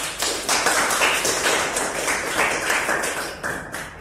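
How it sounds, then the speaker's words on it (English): A class of students clapping for themselves after a coding project, a dense run of overlapping hand claps with sharp transients, fairly close and steady for about four seconds with no talk. "Congratulations, give yourself a clap."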